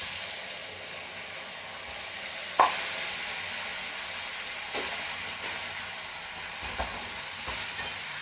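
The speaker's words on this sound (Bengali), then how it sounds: "এগুলোকে একটু ভালো করে কষাবো।" Tomatoes with onion, ginger and garlic paste frying in a pan for a Bengali aloo dum, a steady soft sizzle with a few brief stirring clinks and scrapes, close and fairly quiet, with no voices.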